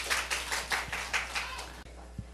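A church congregation claps in a rhythmic, steady beat of roughly eight or nine even strokes at a moderate distance, then stops abruptly, leaving quiet room tone with a stray clap.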